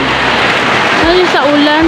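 Heavy rain pours steadily in a loud, continuous wash, with a voice and a short tonal sound rising near the end.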